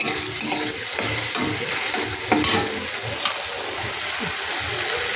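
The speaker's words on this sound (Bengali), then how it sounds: "দেখো আমার তেল ছেড়ে দিচ্ছে মশলাটা দিয়ে, কত সুন্দর।" Spice paste (masala) for a green banana curry fries in oil with a steady, dense sizzle and bubbling throughout, close up, with faint stirring scrapes and occasional clinks.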